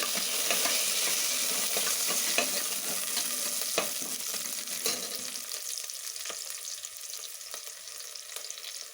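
Curry leaves and fried onions crackling in hot oil for a sprouted horse gram sambar, a bright, continuous sizzle with occasional sharp pops and spoon scrapes, close and fairly faint.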